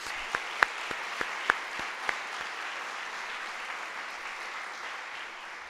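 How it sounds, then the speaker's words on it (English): Applause for a jazz band rolls on as a soft, even crowd patter, with a few sharp, loud nearby claps spiking over it early before the sound settles into a steady murmur. "Let's give them another round of applause, please."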